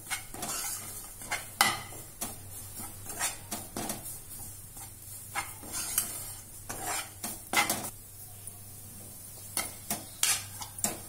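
Raghudaasu laddu mixture roasting in a pan until lightly browned, heard as repeated scraping and stirring with a utensil against the metal, a steady run of close clinks and scrapes over a faint background hum, no talking.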